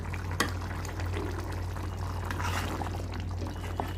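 A tamarind stew, pulusu, boiling in a pot: steady close bubbling and gurgling with soft liquid churning, plus a faint click or two and a low continuous hum underneath.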